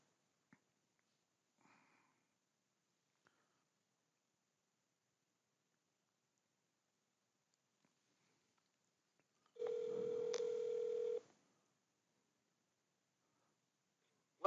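An outgoing phone call to a contact-center demo line gives a single clear ring tone of about a second and a half, heard alone in an otherwise quiet line.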